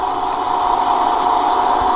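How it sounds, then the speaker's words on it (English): A MAN Lions City double-decker bus engine idles in the Omsi bus simulator game, a steady, loud mid-pitched drone that runs continuously without change. "Engine, door sounds and everything are really nice."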